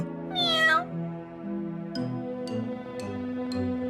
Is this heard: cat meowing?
yes